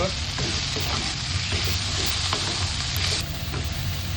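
Chilli fries in a hot pan, sizzling and crackling steadily, with occasional stirring scrapes; no talking.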